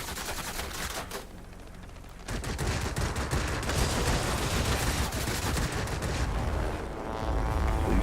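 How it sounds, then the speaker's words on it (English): An aircraft tail gunner fires a machine gun in the World of Warplanes game, heard as sustained dense rattling bursts over loud engine roar, continuous and close throughout. "Go ahead and kill it with your tail gun."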